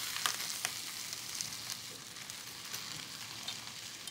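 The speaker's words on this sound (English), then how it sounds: "we have our onions nice and sauteed in our pot with our smoked turkey. We're gonna start adding some of our collards." Collard greens going into a pot of sautéed onions and smoked turkey, with a close, steady sizzle and crackle and a few soft stirring rustles, no talking.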